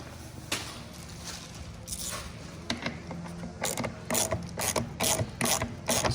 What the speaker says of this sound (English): The fog light screw is just like a guard liner screw. And that just screws in the back.